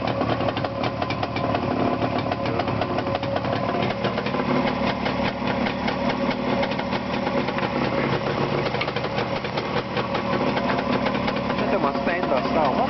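An engine for sale runs steadily at idle on a test stand, a dense mechanical rattle and hum that stays constant throughout without changing speed.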